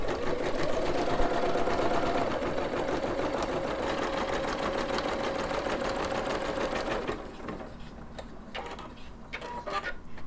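A Singer Legacy SE300 sewing and embroidery machine stitching with a fast, steady mechanical whirr that stops abruptly near the end, followed by a few faint clicks and handling noises.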